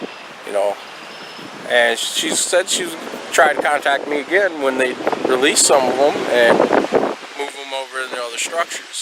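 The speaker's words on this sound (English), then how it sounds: "Sorry about the wind. It's a little windy out today." Gusty outdoor wind buffets the microphone in a rumbling, uneven rush that runs the whole time beneath a person talking close to the mic.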